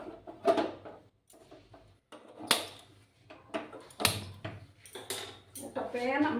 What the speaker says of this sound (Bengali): একটা প্যান আমি বসিয়ে দিলাম।